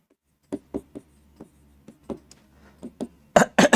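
Chalk or marker taps and scratches on a classroom board, a sparse series of short, close strokes and clicks with quiet gaps, ending in a few louder scrapes.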